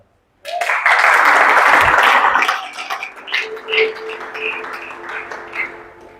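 A church congregation bursts into loud, sustained applause, a dense wash of clapping that swells for about two seconds and then thins into scattered, uneven claps with some voices.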